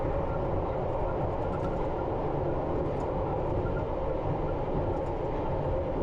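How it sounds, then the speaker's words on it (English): A London Underground train braking on approach on the Northfields to Terminal 5 run: a steady rumble of wheels and motors heard from the cab, with faint squeals and no speech. "And I'll start braking now."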